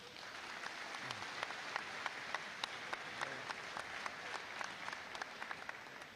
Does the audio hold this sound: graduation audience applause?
yes